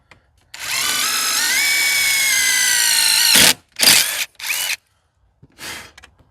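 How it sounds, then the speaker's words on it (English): A power drill boring a 1/4 inch hole in a golf cart, a loud, close, high whine lasting about three seconds, then several short bursts of drilling separated by silence. "We're going to do our 1/4 inch hole right here at the bottom."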